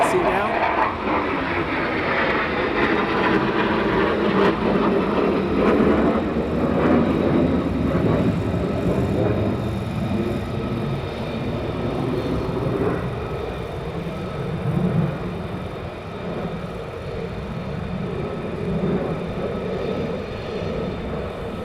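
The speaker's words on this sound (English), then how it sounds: "Tells us there's more F-35s taxiing down" F-35 fighter jets taxiing at RAF Lakenheath during night flying operations, with a steady loud jet engine roar and whine that holds throughout and swells slightly at times, while people talk nearby.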